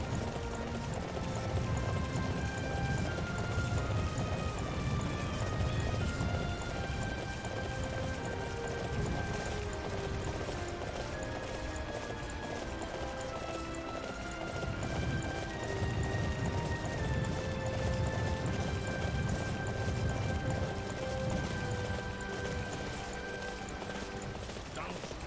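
Horse hooves clip-clopping at a steady gallop in the action game Dynasty Warriors 9, a continuous rhythmic drumming beneath game music, with a brief whinny.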